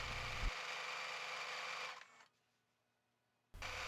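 A sewing machine fitted with a walking foot stitches bias binding onto a picnic blanket in a quick, close whirring burst, stops briefly into near silence, then starts running again.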